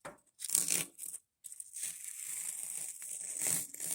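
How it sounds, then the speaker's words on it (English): Masking tape peeled and crumpled off a Mastercraft garden tractor during restoration, giving close crinkling and tearing bursts with a short pause, then a steadier rustle of handling. "I just seen we have one more untaping to do right here"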